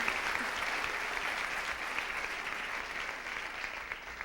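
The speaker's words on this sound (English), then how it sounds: "Please go ahead and applaud." Steady audience applause fills a pageant hall at the Miss USA 1997 contest, a dense, even patter of many hands clapping at close range with no talk over it.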